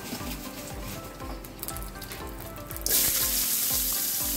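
Koral fish frying in a pan, a continuous close sizzle and crackle with light spattering that swells into a louder, hissing burst for the last second and a half.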